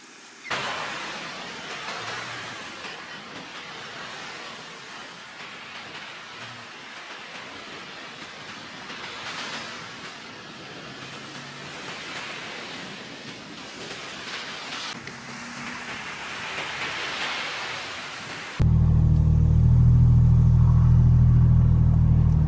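Toyota 4Runner cruising on a road on a Friday afternoon, a steady broad rumble of engine, tyres and wind rolling on without pause, then swelling into a louder, heavier low drone near the end.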